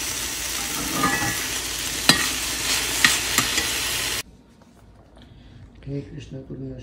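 Drumstick leaves stir-fried with potato in a pan give a steady loud sizzle with stirring scrapes and clatters for about four seconds, then it cuts off to quiet background with faint speech.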